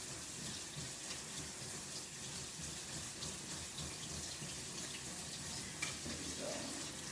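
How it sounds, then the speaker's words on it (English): Cold tap water runs steadily from a kitchen faucet over noodles in a sink, a soft continuous splashing hiss with no break. "I'll rinse these with some cold tap water."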